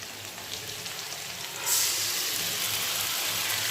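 Potatoes frying in a pan, a continuous hissing sizzle that swells louder partway through and then stays steady and close with no talk.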